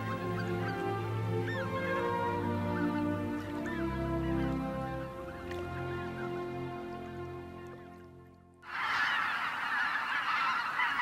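Greater white-fronted geese honk in a dense, continuous chorus at a lake before dawn, many overlapping calls close and loud, then a sudden rush of wingbeats and noise as the flock lifts off near the end.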